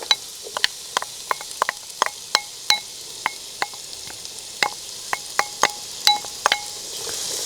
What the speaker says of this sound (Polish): na masło wrzucam pokrojoną w kostkę cebulę